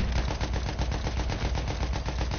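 Sustained rapid machine-gun fire in the video game Battlefield 1, a loud, continuous rattling burst of evenly spaced shots close by, with no talking.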